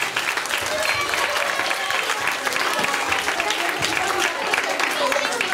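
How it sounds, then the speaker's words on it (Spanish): Festival audience giving a loud round of applause at a children's presentation, dense continuous clapping from a crowd with some voices mixed in throughout. "un fuerte aplauso para vosotros"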